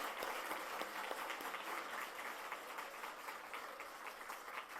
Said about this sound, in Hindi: जरा ताली बजाइए, जरा आप एक्टिव हो जाएंगे।